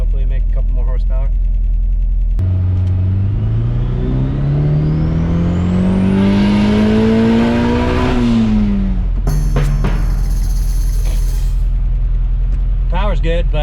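Turbocharged Honda Prelude H22 engine on full power, a loud rising rev that climbs steadily for several seconds before cutting off, followed by a whoosh and mechanical noise, with someone speaking.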